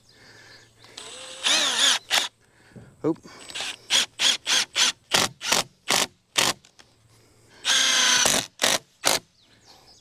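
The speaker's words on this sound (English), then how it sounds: "Use my Milwaukee hammer. Is this a hammer drill?" A Milwaukee hammer drill runs in a couple of longer whirring bursts and a rapid series of short on-off pulses, loud and close, with a brief spoken word between.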